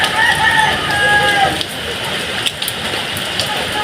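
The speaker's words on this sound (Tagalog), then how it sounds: "Lumalakas pa yung ulan." Steady rain pours and patters loudly on surfaces outdoors, a dense continuous hiss that thins slightly after the opening seconds, with a few faint tonal sounds early on.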